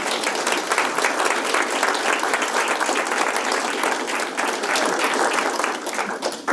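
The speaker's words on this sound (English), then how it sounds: "Please join me in applause for all of them." A forum audience applauds candidates in a steady, dense wash of clapping that holds at full strength for the whole stretch without fading.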